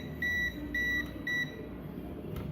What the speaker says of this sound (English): it will beep because I'm conducting the electricity